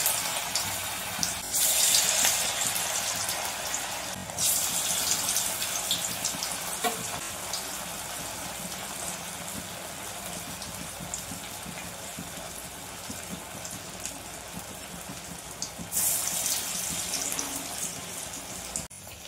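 Shaped pieces of food fry in hot oil in a wok, giving a steady, close sizzling hiss that runs throughout with a few brighter bursts of crackle.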